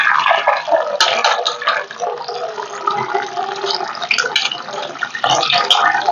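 Leafy vegetables being rinsed by hand in water, with continuous splashing and sloshing close by, brief pauses and bursts of swishing throughout.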